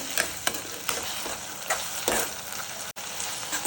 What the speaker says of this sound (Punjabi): ਸਾਰੀ ਸੌਸ ਨੂੰ ਚੰਗੀ ਤਰ੍ਹਾਂ ਮਿਕਸ ਕਰ ਲੈਨੇ